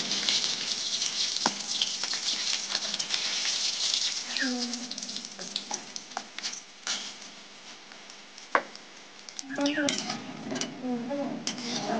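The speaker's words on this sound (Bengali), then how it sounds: "বড়িগুলোকে লাল লাল করে ভেজে নেবো।" Bori lentil dumplings fry in oil in a kadai with a steady, dense sizzle and patter, punctuated by occasional clinks and scrapes of a utensil against the pan.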